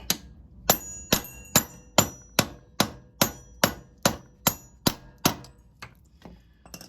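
A socket hammered to seat the crank seal on a 1984 Honda Goldwing, about a dozen sharp metallic clanks in an even rhythm, ringing slightly, close and loud.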